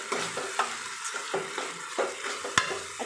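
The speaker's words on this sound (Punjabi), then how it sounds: "ਹੁਣ ਆਪਾਂ ਇਸ ਵਿੱਚ ਪਿਆਜ਼ ਪਾਵਾਂਗੇ, ਗ੍ਰੈਂਡ ਕੀਤੇ ਹੋਏ। ਅੱਛੀ ਤਰ੍ਹਾਂ ਮਿਕਸ ਕਰਾਂਗੇ ਪਿਆਜ਼ਾਂ ਨੂੰ" Grated onions are stirred in a pot with ginger garlic paste, giving a soft, low sizzle with repeated spoon scrapes and taps at an uneven rhythm, fairly quiet and close, with no voice.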